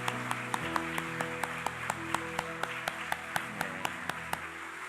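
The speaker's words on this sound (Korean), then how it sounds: "여러분께 지지와 응원의 박수 드립니다" A church congregation at a New Year's Day Sunday service at Gwangju Daeil Church claps in a steady, quick rhythm, evenly spaced claps running the whole time over sustained musical tones.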